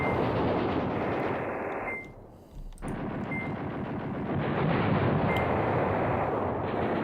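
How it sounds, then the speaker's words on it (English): Sustained artillery and gunfire in the wargame Command Ops 2, a dense continuous rumble of overlapping blasts that briefly dips before resuming at full loudness, with no voices. "Just keep dropping artillery on these guys."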